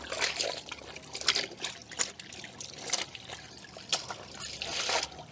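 Water trickles and splashes while clothes are rinsed outdoors, a soft, uneven dribbling with intermittent sloshing bursts, faint and close, with no voices.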